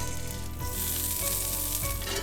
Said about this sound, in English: taking the last of the cabbage rolls out of the skillet. Some bacon grease.